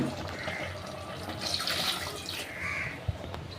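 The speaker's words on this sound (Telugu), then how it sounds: "ఇందులో సరిపడే నీరు వేసుకోవాలి ఫ్రెండ్స్." Water pours steadily into a pot of Konaseema-style goat head curry, a close, continuous rushing splash, with a faint crow-like caw briefly in the background.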